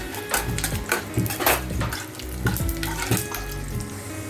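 Spices roast in a pan with a little oil, a close, continuous crackle and sizzle broken by repeated scraping stirs and spoon knocks.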